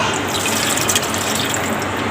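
A glass of water poured into kebab masala as it fries in a pan, a steady broadband sizzle and splashing rush running the full length, loud and close.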